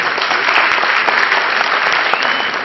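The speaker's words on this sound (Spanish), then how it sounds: "Recibamos con un fuerte aplauso" An audience at a hospitality lecture applauds to welcome the speaker, with dense, continuous clapping that stays loud and even throughout.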